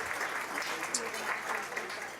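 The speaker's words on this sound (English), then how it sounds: "Let's give him a round of applause." Audience applause for a county commissioner at an agricultural hall of fame gathering, a steady patter of clapping across the room that holds for a couple of seconds at moderate level.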